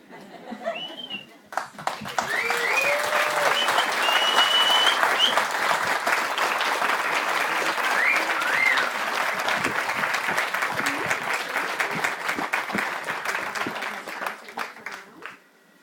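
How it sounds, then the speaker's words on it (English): Wedding guests applaud the newlyweds at the end of the ceremony, a sustained wash of crowd clapping with scattered cheers and whoops, rising after a quiet start and fading at the end. "join your hands together one more time in a round of applause for Mr. and Mrs. Garrett Skinner."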